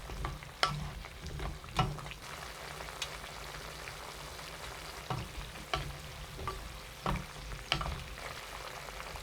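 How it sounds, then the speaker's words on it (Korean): Soy sauce braising liquid bubbles with potatoes in a covered pot over medium heat, giving a steady low simmering hiss broken by soft intermittent pops and taps. "양념이 끓으면 중불로 낮춰 2분 끓입니다"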